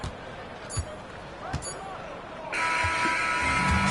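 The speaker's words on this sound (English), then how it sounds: "This one was over well before the final buzzer." A final buzzer sounds to end a Milwaukee NBA basketball game, a loud, sustained electronic tone that cuts in over steady arena crowd murmur and scattered thuds of the ball.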